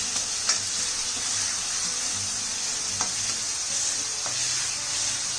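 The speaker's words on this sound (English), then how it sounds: "I'm going to give all of this a mix." Egg being stirred with soy sauce and tomato ketchup in a hot pan over high flame, a steady sizzle with a few light scraping knocks of the spoon, close and continuous with no talk.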